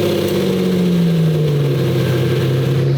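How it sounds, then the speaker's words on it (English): A manual Lamborghini V12 engine idles loudly and steadily after a cold start, its deep hum holding with a slight drop in pitch. "first cold start."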